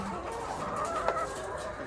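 Laying hens in a small poultry flock cluck continuously in the background, a busy flock murmuring at moderate distance with one brief louder call.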